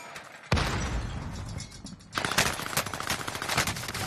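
Video game gunfire erupts in loud, sustained bursts of rapid automatic shots, with a sharp onset near the start and a second heavy volley partway through, filling the clip densely.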